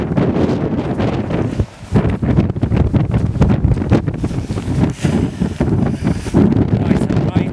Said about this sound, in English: this wind takes your breath away